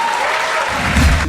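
An audience at a festival finale at the Institut français du Gabon breaks into applause, a short burst of many hands clapping that swells briefly before fading.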